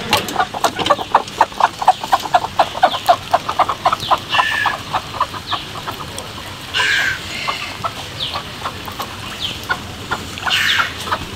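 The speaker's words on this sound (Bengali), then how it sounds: "আসলাম ছাদে, কারণ ছাদে যে মুরগিগুলো আছে এগুলো এখনো ছাড়া হয় নাই।" Chickens cluck on a rooftop after rain, a rapid run of close, repeated clucks with a few sharper, higher calls, and no talking.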